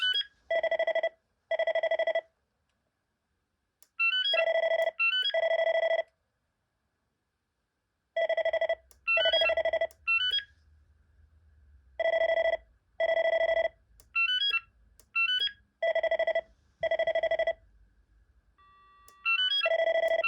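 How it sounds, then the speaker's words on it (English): A BT2200 telephone ringing with a PBX ring signal, giving electronic warbling tone bursts in repeated pairs and triplets separated by pauses, clear and close, with a faint background hum partway through. "I wonder if that one will ring with the ring signal of the PBX."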